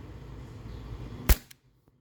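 A single sharp shot from a .43 caliber paintball marker, a loud close crack with a brief tail, followed by a faint click, after a low background hum.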